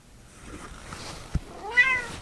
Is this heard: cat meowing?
yes